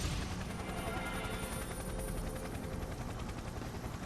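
Helicopter in the fighting video game Persona 4 Arena Ultimax gives off a loud, constant rotor and engine roar, a dense rumbling drone sustained evenly from start to end.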